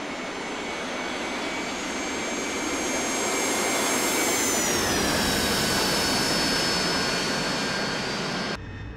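A Harrier jet in the DCS flight simulator rolls down the runway on takeoff, its steady loud jet roar swelling and whining as it gains speed, then cutting off abruptly near the end.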